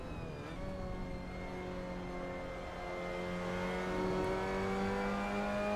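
An MX-5 Cup race car engine in Assetto Corsa holds a loud, steady drone. It dips sharply as the car shifts down to second, then climbs slowly in pitch with continuous exhaust tone and no voices.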